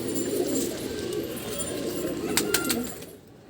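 Close, low pigeon cooing from a balcony rolls on for a few seconds, with a faint high tone and brief bright taps near the end.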